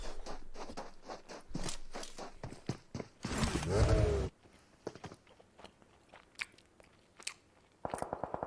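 A commentator chews and bites into a dumpling close to the mic during an esports mobile game broadcast, with irregular crunchy, wet bites and short bursts spread across the clip and no clear talk.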